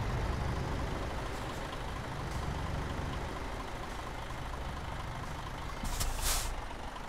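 A truck in Euro Truck Simulator 2 rolls around a corner, its engine a steady low rumble under broad road noise, with a brief hiss near the end.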